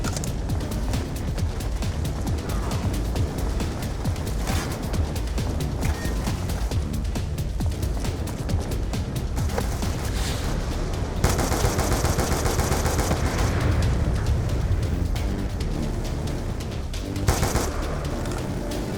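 A gun turret in the Black Ops 2 campaign fires continuously with dense, loud automatic bursts, layered with other gunfire and battle noise throughout.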